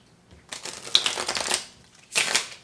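A deck of cards is shuffled twice, close up, each riffle a quick rapid flutter of snapping cards.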